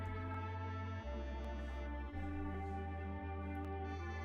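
A looping jazzy music sample in Ableton with a warm bass line stepping between notes and layered chords above, steady and fairly quiet, no voices.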